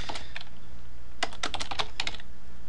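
Typing on a computer keyboard to fill out an electronic form: a few isolated key taps, then a quick close burst of clicks, crisp against a quiet room.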